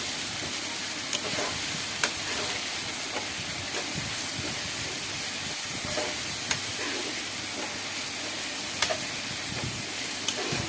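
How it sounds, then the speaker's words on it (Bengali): Red lentils and spices fry in a pan with oil for a country chicken curry, a steady dense sizzle running throughout, broken by occasional sharp clicks and scrapes of a spoon stirring. "আর একটু নাড়াচাড়া করে আমরা মসুর ডাল একটু দিয়ে দিব পরিমাণ মতো। তারপরে আবার নাড়াচাড়া করে জিনিসটা কষে নিব"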